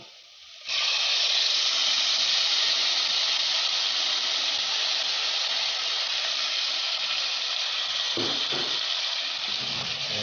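Blended tomato hits hot oil with frying chicken for a chicken wet fry, bursting into a loud, steady sizzle and hiss that starts abruptly and holds for about ten seconds, with a brief stir near the end.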